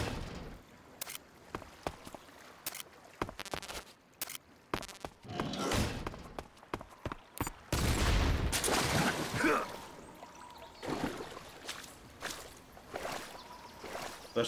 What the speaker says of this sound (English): Gonna blow up this room real quick